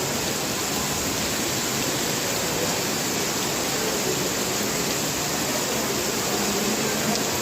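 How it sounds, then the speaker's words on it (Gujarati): Heavy rain pours down steadily over the town of Bagasara, a dense, unbroken roar of downpour that stays constant and loud throughout with no voices. "બગસરા શહેરમાં ભારે વરસાદના અત્યારે દ્રશ્યો જોવા મળી રહ્યા છે"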